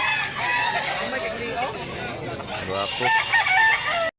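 A bullstag chicken crows loudly and clucks close by, with bright, repeated calls that fill the space, while someone speaks briefly over them.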